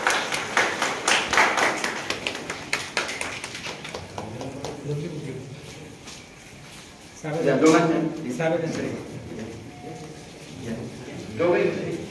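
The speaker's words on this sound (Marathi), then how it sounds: "सर्वांनी परत एकदा जोरात टाळ्या वाजवून" Brisk clapping from an audience at a retirement ceremony fills the first few seconds, then fades as someone speaks over a public address system, and a short burst of claps returns near the end.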